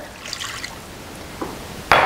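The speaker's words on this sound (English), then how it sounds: "I'm going to finish it off with about a cup of water." About a cup of water poured into a roasting pan holding a turkey: a soft, brief splash and trickle, with a louder metallic clatter at the end, heard close in a quiet kitchen.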